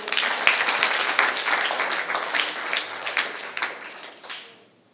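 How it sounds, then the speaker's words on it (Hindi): A crowd of children clapping at an Arya Samaj annual festival, a steady burst of applause that holds for several seconds, then fades out at the end. "सब बच्चे ताली बजाओ"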